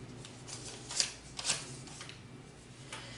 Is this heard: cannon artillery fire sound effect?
no